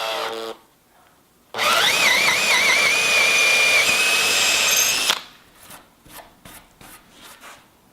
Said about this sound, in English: the drill spins faster, but it's great for doing jobs like drilling holes in timber